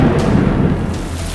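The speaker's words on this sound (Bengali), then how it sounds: "হঠাৎ শুরু হলো তুমুল বৃষ্টি।" Sudden heavy rain pours down as a dense, continuous roaring wash of noise, loud and unbroken, with no voices.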